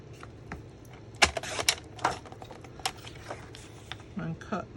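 A paper trimmer cuts a sheet of basic white cardstock at a craft table, giving a few sharp slicing and clicking strokes close to the microphone, with a voice in the background.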